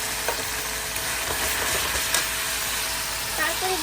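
Spice paste with yogurt and cashew paste frying in a pan for egg malai curry, a steady close sizzle with faint stirring scrapes throughout.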